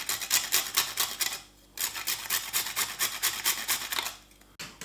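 A spice is grated over sauce ingredients for homemade brown sauce, with rapid rasping scrape strokes in close bursts, a short pause, then another run of quick scraping.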